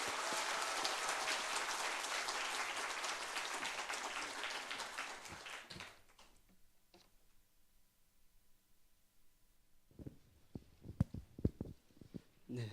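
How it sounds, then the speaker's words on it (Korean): A church congregation at a Korean Friday worship service gives warm applause to welcome a preacher, steady dense clapping for about six seconds that drops to near silence, then a few sparse taps and knocks. "나오실 때 우리 뜨거운 박수로 맞이하겠습니다."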